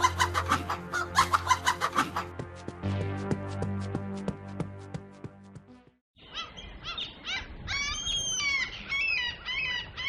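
Chickens taken from their coop at night by a thief cluck and squawk in agitated, overlapping bursts, following a stretch of rhythmic plucked music.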